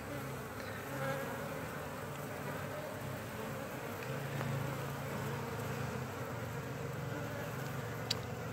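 Honeybees buzz steadily around an open hive during an inspection, a constant, close droning hum with a few louder passes near the microphone.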